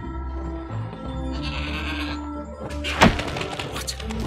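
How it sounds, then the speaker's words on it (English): A goat bleats loudly in the video game Trine 4, one clear bleat cutting over steady background music, followed by a thump. "What an amazing goat!"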